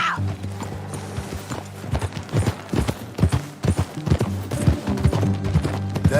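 Horse hooves clip-clop in a steady, uneven trot in the Red Dead Redemption 2 video game, close and fairly loud, with a brief snort or whinny mixed in and no talking.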